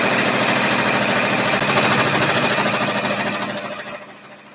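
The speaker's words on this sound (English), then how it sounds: "it's just going to stitch around one time" A sewing machine stitching around the fabric of a bag, a loud, steady mechanical whir with rapid needle pulsing that runs close and continuous, then slows and fades to a stop near the end.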